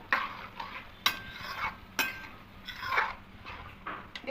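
A spoon scrapes and clinks in a pan of spiced potato masoor and moong dal fry as it is mixed, with repeated strokes about once a second, close and fairly clear.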